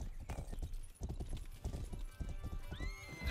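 Horse hooves clip-clop in a quick, steady rhythm in a video game, with a horse whinnying near the end.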